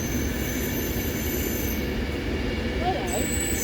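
A passing train on the West Coast Main Line at Stafford fills the scene with a steady, loud rumble and rail roar throughout, with a brief wheel squeal near the end.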